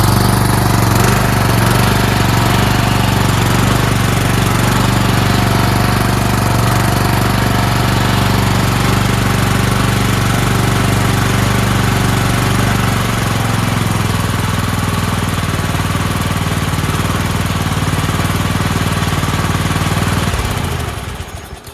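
A Weed Eater Featherlite FL25 two-stroke string trimmer engine runs loud and steady close by for about twenty seconds, with a dense droning buzz that cuts off sharply at the end; no one speaks.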